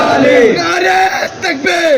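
A large religious gathering marking Eid Milad-un-Nabi shouts slogan responses in unison, loud and close, with a chanting voice rising and falling among the rhythmic, full-throated crowd cries.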